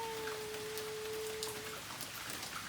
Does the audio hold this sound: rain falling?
yes